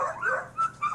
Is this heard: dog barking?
yes